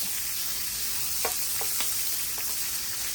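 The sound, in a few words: jumbo shrimp frying in butter, turned over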